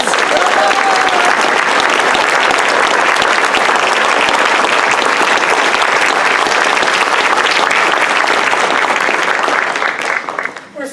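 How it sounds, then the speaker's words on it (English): Sustained, loud crowd applause fills a teachers' awards ceremony hall as past Distinguished Teacher honorees stand, a dense, even roar of clapping lasting several seconds before tapering off at the end. "Big round of applause."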